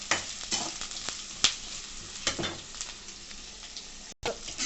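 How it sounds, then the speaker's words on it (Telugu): Green chillies sizzling in hot oil over high heat for gongura chicken, a continuous bright crackle broken by stirring scrapes and clicks, close by, with a brief dropout near the end and no talking. "ఇందాక ఉంచిన పచ్చిమిర్చి కూడా వేసుకోవాలి ఫస్ట్ కొద్దిగా హైలో పెట్టేసుకుని వేయించుకోవచ్చండి"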